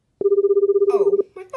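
A telephone rings once in a fast warbling electronic trill lasting about a second, loud and near, and a voice follows right after it.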